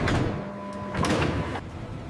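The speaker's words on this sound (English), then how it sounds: "pallets roll into a reefer, and doors seal for transport" Refrigerated truck doors at a loading dock slide and thud shut, a loud rolling scrape followed by a clunk and a second shorter slam as they seal.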